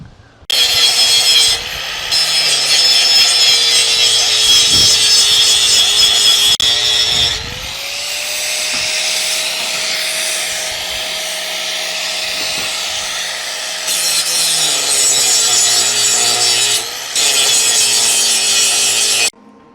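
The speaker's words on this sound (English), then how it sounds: "I'm just grinding down the very tops of the welds where they stick up where I want to put the feet on." An angle grinder takes the high spots off steel welds on a frame, a loud, close, continuous whine with a harsh rasp that stops and restarts several times.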